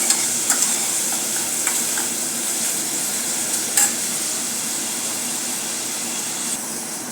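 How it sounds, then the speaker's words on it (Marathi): Chopped onion being sautéed in a pan until pink, a loud steady sizzle with a few scraping stirs of a spatula, close and continuous. "कांदा चांगला आपल्याला गुलाबी होईपर्यंत परतवायचा आहे."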